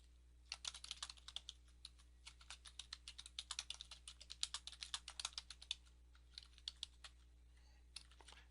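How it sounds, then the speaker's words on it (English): Rapid, uneven keystrokes clatter on a computer keyboard with short pauses between bursts, steady and close, with no voices. "and then type in your site name"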